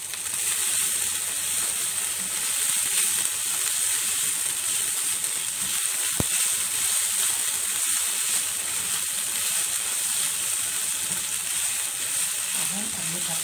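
Ghee sizzles and crackles steadily in a hot pan while Syrian shawarma is being cooked, with a soft clink partway through and faint talk underneath.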